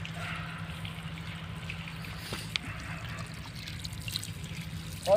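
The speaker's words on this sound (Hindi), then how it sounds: "पानी तो कभी नहीं जा रहा है, पानी चालू कर दिया है।" Irrigation pump water running into a village farm field at low pressure, a steady soft trickle and flowing stream under a low engine-like hum, with a brief splash near the end.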